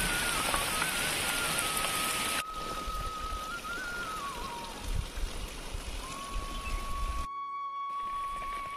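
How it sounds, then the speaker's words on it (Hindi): Heavy rain pours steadily on surfaces, a dense continuous hiss with a faint tonal whine in the background and a brief dropout near the end. "तो बारिश काफी तेज हो गई"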